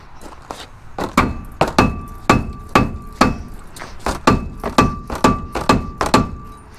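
Hammer blows beating on a car's wheel hub bearing to drive it out, about fifteen loud, close, sharp metallic strikes in an uneven rhythm, some with a ringing tone, with no talk.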